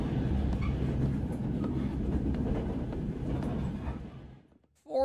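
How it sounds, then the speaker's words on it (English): Train car rolling along the rails in the horror game REVEIL, a steady dense rumble with faint clickety-clack, loud and close, fading out near the end before a sudden new sound cuts in. "A train? Whoa, I'm in a train car."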